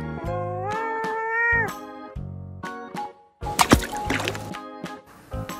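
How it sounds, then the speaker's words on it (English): A cat meows several times up close, drawn-out and wavering calls with short gaps, followed by a splashy, pouring liquid noise and a final brief meow. "Cat."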